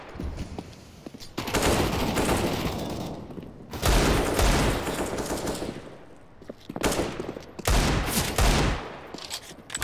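Rapid automatic gunfire in a Counter-Strike style shooter, long bursts of fire broken by brief pauses, loud and close throughout with no talking.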